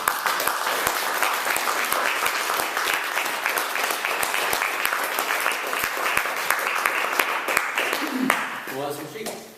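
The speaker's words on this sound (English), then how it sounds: "But let's get another round of applause for all the leaders." A crowd in a room applauds after a literary reading at a yoga studio's literary series, a sustained burst of clapping up close that fades near the end as a voice starts talking.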